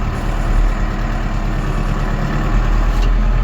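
An ENEY 110 tractor pulls up and manoeuvres, giving a loud, steady, close engine drone with a deep low rumble and no voices.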